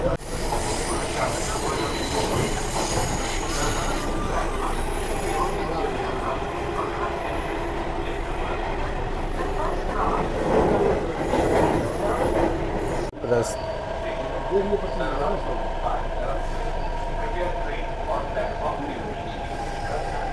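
A Delhi Metro train pulls out of Indraprastha station, heard from inside as a steady rumbling roll with wheel squeal and clatter, a sharp thud near the middle, and voices talking over it.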